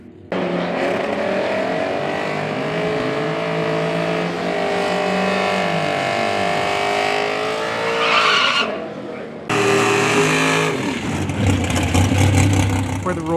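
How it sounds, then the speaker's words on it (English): Drag racing car tires screech and squeal loudly while peeling out of the burnout box at Bandimere Speedway in Morrison, Colorado, a long sustained wail over revving engine, then a cut to another roaring, squealing burnout. "the sound of screeching tires peeling out the burnout box"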